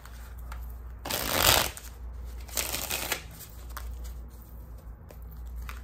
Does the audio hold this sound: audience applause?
no